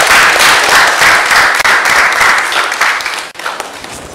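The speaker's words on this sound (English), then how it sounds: "Please a round of applause for them." Audience applause at a Toastmasters award presentation, a steady dense clapping from a room full of people that carries on for several seconds before tapering off near the end.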